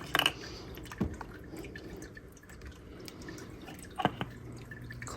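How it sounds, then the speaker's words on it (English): Water trickles and drips as it drains from an AeroGarden hose, with a few distinct splashy drips standing out over a quiet, faint background. "lets out the rest of the water from the hose"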